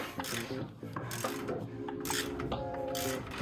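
Rasping ratchet clicks from a socket wrench loosening a bolt on a Nissan 350Z, close up, in short repeated bursts with a steady undertone.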